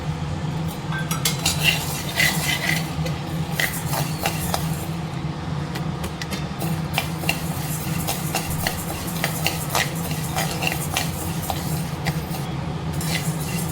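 Black kavuni rice dry-roasting in a pan, with a steady rattling, scraping stir and scattered light clinks running continuously at moderate level throughout, with no talk.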